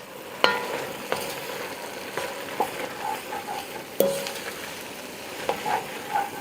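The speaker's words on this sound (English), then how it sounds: "I'm gonna sprinkle that in here, give it a stir." Flour stirred into a pot of homemade soup gives a quiet bubbling simmer under repeated scraping strokes and occasional sharp clinks of a utensil against the pot, close and without talk.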